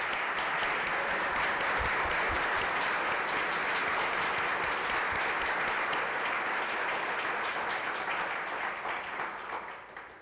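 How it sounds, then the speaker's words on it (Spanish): An audience applauds musicians at a lecture-concert on Bolivian music, producing dense, sustained clapping that stays loud for about ten seconds before tapering off at the end. "Por favor, un aplauso a ellos."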